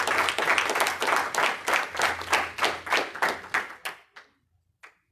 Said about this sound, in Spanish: ¿Usted le da un aplauso?